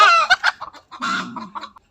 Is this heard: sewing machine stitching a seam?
no